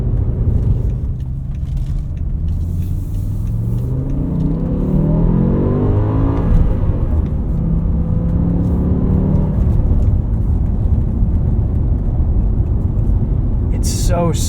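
Heard from inside, a BMW M5 E60 with a V10 and six-speed manual accelerates, a loud steady engine roar climbing through the revs and dipping at a gear change, with cabin rumble throughout.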